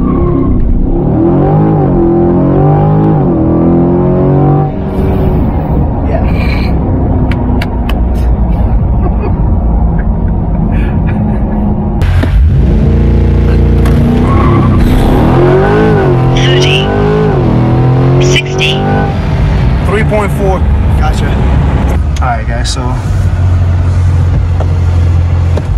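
A 2022 C8 Corvette accelerates hard, its engine loud and close with climbing, sweeping tones and a gear change midway, heard from inside the car, and a voice talks over it at times.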